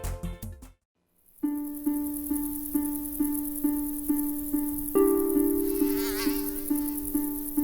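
A loud, steady Aedes aegypti mosquito whine after a brief silence, holding a constant pitch with a pulsing rhythm, then rising and wavering a little as the insect shifts position close to the listener.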